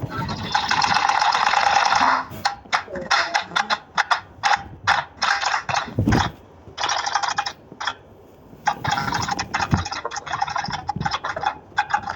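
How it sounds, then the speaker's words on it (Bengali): A sewing machine stitches the cuff end of a kameez sleeve in close, loud bursts of rapid mechanical clatter separated by short pauses and ratcheting clicks. "এবার হাতার মাথায় আর একটা সেলাই দেবো"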